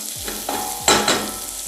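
Cauliflower for soup being stirred in a pan over low heat, giving a soft sizzle and a few brief scrapes and clinks of the utensil.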